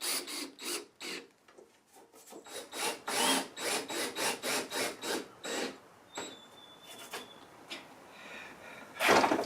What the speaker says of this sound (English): I just use a larger bit and bore down slightly into the pilot hole